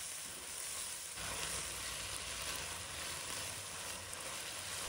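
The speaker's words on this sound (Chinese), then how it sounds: "然后加入调好的酱汁，让鸡肉慢慢的吸收酱汁。" Kung pao chicken sizzles hard in a wok over high heat as sauce goes in, a steady loud frying hiss with a sharper burst about a second in, continuing without voices.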